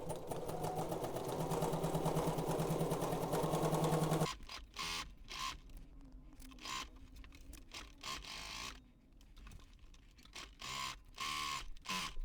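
A sewing machine stitching side seams on a garment, a steady, close motor whir that then breaks into short stop-start bursts of stitching.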